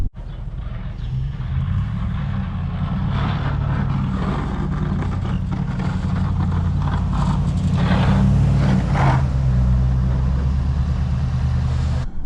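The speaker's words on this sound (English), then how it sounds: "here's another one of our skid steers doing its thing." Skid steer loader working in a snow storm, a steady heavy engine drone with low rumbling and clanking mechanical texture running continuously throughout, loud and close with no talking.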